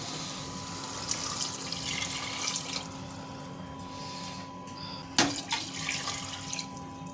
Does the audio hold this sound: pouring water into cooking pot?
yes